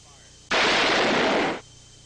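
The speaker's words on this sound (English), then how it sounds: "King drew and fired." A single loud, close burst of pistol fire lasting about a second, set in an Old West gunfight over a card game, standing alone without voices.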